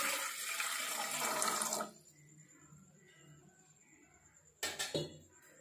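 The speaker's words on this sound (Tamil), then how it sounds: "500 எம்எல் நம்ம தண்ணீர் ஊற்றிக்கலாம்." Water pours steadily into a cooking pot, 500 ml being added for a black pepper herbal kasayam, then stops; a metal clink and rattle of the pot follows near the end.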